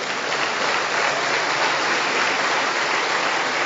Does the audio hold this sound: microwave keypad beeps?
no